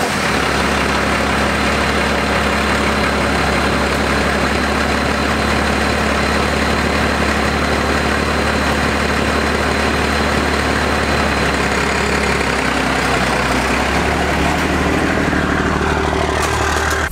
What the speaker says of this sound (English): Startup that you guys have heard on this truck